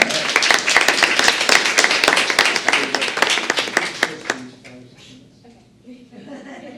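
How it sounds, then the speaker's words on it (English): A crowd at a board meeting claps in dense, steady applause that gradually thins out to a few scattered claps and fades into quiet room noise. "Put a big round of applause for Madison Parker."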